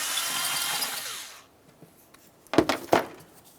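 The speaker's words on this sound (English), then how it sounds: "Loosen the clamp, give it a little wiggle, and lift it up and off." A metal hose clamp on the throttle body hose of a 1994-2002 Dodge Ram 2500 is loosened: a steady broadband hiss of tool work fades into quiet, then two sharp close metallic clicks follow.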